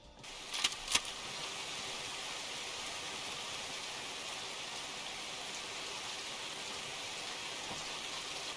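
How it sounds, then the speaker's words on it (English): Heavy rain falls steadily in the Escape from Tarkov video game on the Shoreline map, a dense, even hiss that fills the scene after a couple of brief clicks at the start. "It's a little bit raining, or actually it's raining pretty hard."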